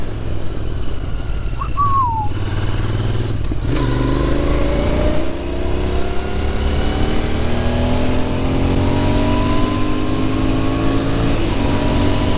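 A Royal Enfield Interceptor 650 motorcycle accelerates hard and close, its engine note climbing steadily through the gears as a loud, continuous roar with wind rush. No one speaks.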